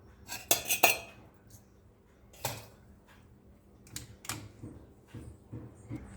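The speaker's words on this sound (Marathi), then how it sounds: "पुन्हा त्याला गॅसवर मंदाचेवर ढवळत राहूया" A spoon stirs white coconut-milk curry in a metal pan over a low gas flame, giving scattered metallic clinks and scrapes, a quick cluster early and sparser taps after.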